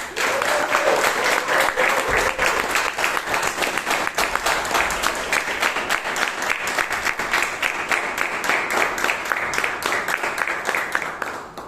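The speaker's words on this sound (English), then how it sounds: "give a huge round of applause to the president of the Bangalore Toastmasters Club, Toastmaster George Paul" Sustained applause from a Toastmasters club meeting audience in Bangalore for the club president, steady dense clapping holding at an even level for about twelve seconds.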